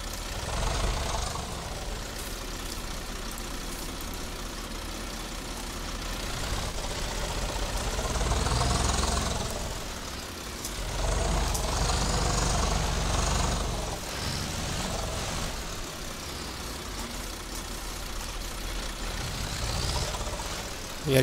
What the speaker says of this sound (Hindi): ये ट्रैक्टर उड़ता है यार आगे से, बस झटके मार के साइड निकल ही जाए।